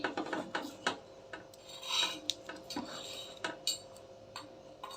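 Cumin seeds dropped into hot oil in a pan while cooking dal khichdi, giving faint crackling and rasping with scattered light ticks and a few utensil scrapes, close by and quiet, no voices.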